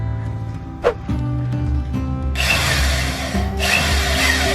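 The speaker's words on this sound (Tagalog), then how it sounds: "Madaya, gumamit ng jigsaw." Jigsaw cutting into a pumpkin to carve a Harry Potter jack-o'-lantern: a low motor buzz with a brief knock early on, then a louder, harsher rasping cut for the last two seconds.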